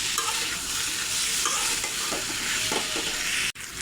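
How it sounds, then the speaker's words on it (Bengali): A spatula stirs fried vegetables (pumpkin and Malabar spinach with prawns) with spices in a frying pan, giving a continuous close scraping and sizzling texture that fills the whole stretch. There is no talk. "এই যে মশলা দিয়ে আমি সবজিগুলো মিশিয়ে নিয়েছি"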